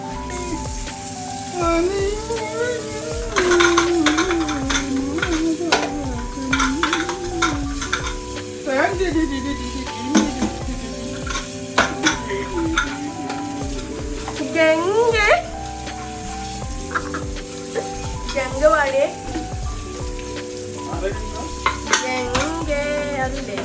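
Tomatoes and onions sautéing in a pan for a tomato chutney, with steady loud sizzling and frequent spoon stirring and scraping. A voice and background music sit over the cooking throughout.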